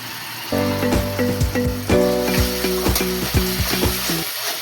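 Masala for a katla fish curry with cauliflower, made with ginger, garlic and tomato paste, fries and is stirred in a pan, giving a steady close sizzle with rhythmic scraping strokes throughout.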